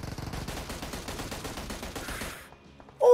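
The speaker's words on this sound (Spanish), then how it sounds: "Le están disparando atrás" Rapid gunfire in a battle royale video game, a dense fusillade of repeated shots for about two seconds that fades to near quiet before a sudden loud burst at the end.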